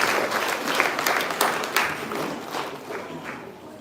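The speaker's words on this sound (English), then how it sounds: "Clap until she's here." A poetry prize audience keeps applauding as a speaker walks to the stage. Scattered individual claps ring out over the general clapping, which slowly fades toward the end.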